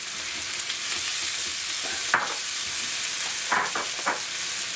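Tomato going into a pan of onions over a high flame for a king prawn masala, giving a steady hot sizzle with a few louder bursts as it is stirred and spread, close and without talk.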